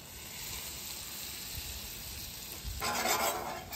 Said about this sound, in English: Let's cook off that flour just a little bit.